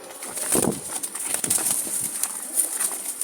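Wild Jalali pigeons coo in soft, repeated low calls, close by, with light rustling and faint background noise throughout.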